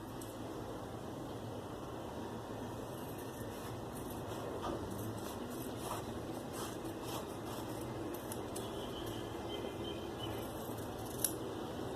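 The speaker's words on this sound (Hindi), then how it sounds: "और अब हम इस पट्टी को काट लेते हैं।" Scissors cut through a fabric strip with faint, soft repeated snips over a steady background hum, with no one speaking.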